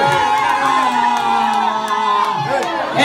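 A concert crowd in Guinea, Conakry cheers and whoops loudly and continuously, a dense close wall of shouting voices with no clear breaks.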